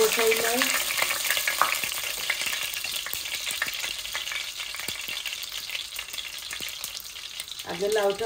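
Bottle gourd frying in a pan with a little cumin and two or three small bay leaves, a steady loud sizzle with stirring clatter throughout, alone.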